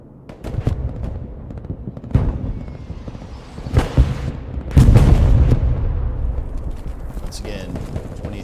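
Artillery fire in a match of a team-based military shooter, with armor also on the field: heavy booming blasts arrive one after another over a dense, continuous roar of battle, loud and close.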